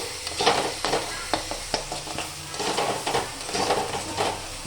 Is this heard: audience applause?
no